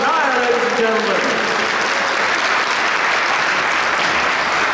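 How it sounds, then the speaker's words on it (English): Loud, sustained applause from a presentation audience for Raj Nair at the Ford Focus RS launch in Cologne, a dense wash of clapping that begins under a trailing voice and then continues on its own. "Big round of applause, please, for Raj Nair, ladies and gentlemen."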